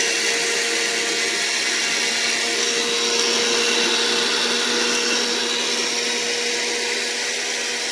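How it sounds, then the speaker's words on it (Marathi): A kitchen mixer grinder running on dry goda masala spices, a loud continuous motor whine and whirring grind that holds steady and close throughout, with no talking. "अशा प्रकारे सुक्या मिक्सरच्या भांड्यात तो सगळा मसाला वाटायचा."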